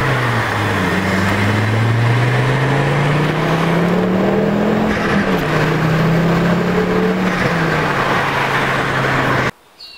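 A Ford Focus ST225 fitted with a custom intake revs and pulls hard, the engine tone climbing and falling through gears over a loud continuous drone before cutting off abruptly near the end.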